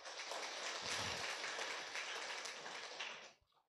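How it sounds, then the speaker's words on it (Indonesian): Church congregation breaks into sustained, full applause, dense steady clapping from many people filling the room for about three seconds before cutting off abruptly. "Tepuk tangan buat Tuhan."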